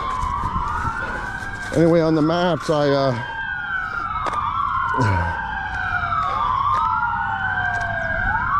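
Emergency vehicle sirens pass outside, wailing in repeated rising and falling sweeps at moderate distance. A person talks over them throughout.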